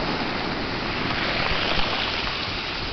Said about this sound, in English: it's such a satisfying sound when the water washes over and then retreats from the cobbles.